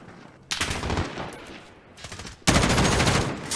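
Rapid bursts of video game gunfire in a competitive match, two dense, loud volleys of quick rattling shots separated by a brief lull.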